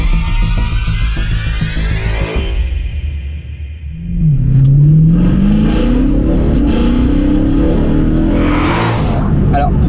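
A BMW M3 E92 engine with Akrapovic exhaust revs up with a rising, throaty exhaust roar, loud and close, sweeping higher over several seconds.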